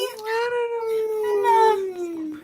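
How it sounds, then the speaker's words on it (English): A puppy howls in one long, drawn-out wavering cry that slides slightly up and then down, close and clear for a couple of seconds before trailing off. "Oh, puppy."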